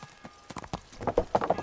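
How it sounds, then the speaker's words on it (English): Horse hooves clip-clopping in Kingdom Come: Deliverance, the horse spawned on a set of stairs; a run of close, uneven hoof strikes builds in loudness, grows denser toward the end and plays alone without talk. "my horse spawns on the stairs"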